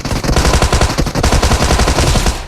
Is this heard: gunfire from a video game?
yes